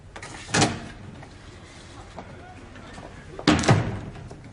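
A door to a factory opens with a heavy thunk and closes again a few seconds later with another solid bang, close by, with faint background rustle between.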